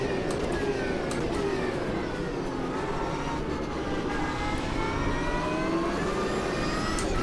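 A Porsche race car in the Automobilista 2 racing game at Daytona Road, its engine note revving and shifting continuously at moderate loudness, with other cars faintly in the mix.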